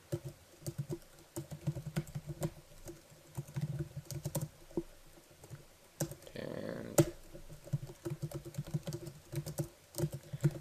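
Computer keyboard typing while an HTML document is written, quick irregular key clicks running throughout at close range, with a brief louder burst of noise midway.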